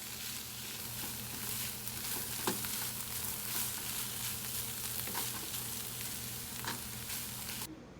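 Chopped broccoli seasoned with salt, garlic powder, pepper and onion powder sizzles steadily in a pan as a stir fry, a constant frying hiss with occasional faint pops and scrapes, no voices.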